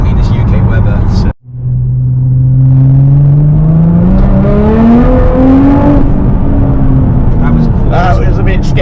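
Nissan GT-R R35, a Litchfield stage 4 tune of 650 bhp, accelerates hard in wet UK conditions while drifting on four-wheel drive, its engine note climbing steadily through a long, loud pull after a sudden brief cut.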